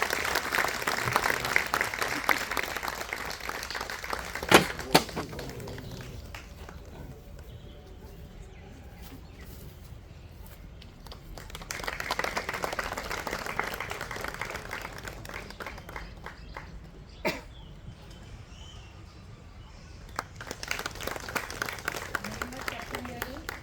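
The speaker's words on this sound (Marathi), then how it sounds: "टाळ्या जोरात वाजवल्या तरी" An audience at a felicitation ceremony breaks into rounds of clapping, with several swelling bursts of applause separated by quieter stretches where people talk.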